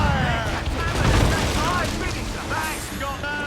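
Ship cannons fire in a naval battle in Assassin's Creed Rogue, heavy booming volleys rumbling low and dense amid battle noise, with shouted crew voices over the din.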